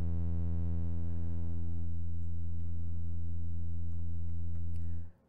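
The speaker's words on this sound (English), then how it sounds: "Kind of makes it back into a saw, into a sine wave" A VCV Rack Befaco synthesizer oscillator hums steadily, its bright buzzy tone smoothing into a pure sine wave, then cuts off abruptly at the end; loud and close with no talking.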